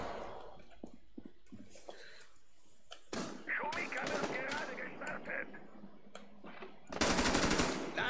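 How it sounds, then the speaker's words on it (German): Rainbow Six Siege gunfire crackles in sharp bursts of rapid automatic shots between quieter stretches, loud and close, with a voice talking partway through. "Schießen können sie ja schon wie wild"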